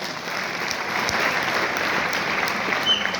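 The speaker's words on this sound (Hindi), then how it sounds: "ये मेरे मम्मी पापा एक बार जोरदार ताली जाऊंगे इनके लिए" An indoor audience claps steadily for a few seconds, a dense, even wash of applause with no voices standing out.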